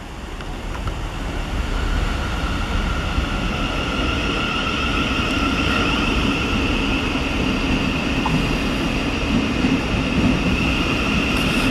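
A Southern Class 377 passenger train rumbles steadily through Redhill station with a continuous roar and faint high whine, loud and close throughout, without pause.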